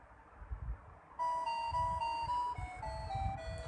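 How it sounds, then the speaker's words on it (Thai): A smart doorbell chime plays a short electronic melody of clear, bright descending notes after a brief stretch of quiet room noise, loud and close. "ตัวที่2นี้เป็นตัวเมโลดี้เลือกว่าเราจะใช้เสียงไหนเราก็กดเลือกได้ตามใจชอบครับ"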